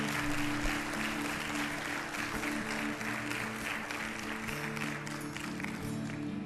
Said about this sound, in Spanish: Dar un aplauso bien fuerte a Jesús